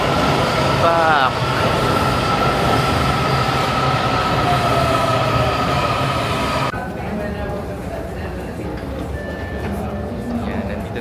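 A subway train in Washington DC runs loudly nearby with rumbling wheels and a brief high squeal before the noise eases slightly and the train continues rolling.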